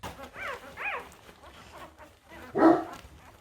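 Working dogs and pig dogs bark in a run of sharp yaps, several quick barks and then one louder bark near the end, with fainter whimpering between them.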